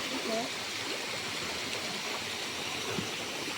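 Siok Falls in South Cotabato pours into a stream, a constant broadband rush of falling water with some faint voice-like sounds, steady and close for the whole stretch.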